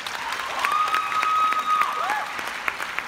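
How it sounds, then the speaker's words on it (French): Conference audience in Barcelona applauds a social media panelist on stage, steady clapping throughout while a sustained whistle or cheer rises over it, then the clapping trails off. "on peut l'applaudir, j'aime bien les applaudissements"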